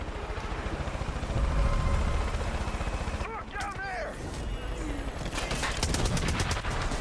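Gunfire bursts and a helicopter's rotor chop in Far Cry 5, with rapid shots throughout and a whirring rotor rising midway, loud and continuous in a busy game mix.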